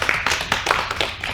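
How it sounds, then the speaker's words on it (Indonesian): Students in a mathematics microteaching classroom clap for a group, with several bursts of hand claps spread across the moment, moderately close and fairly brief, without talk over them. "tepuk tangan untuk kelompok 1"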